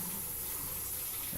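Water runs from a tap in a home during an online meeting, a faint, steady hiss that continues unbroken for just over a second with no talk over it.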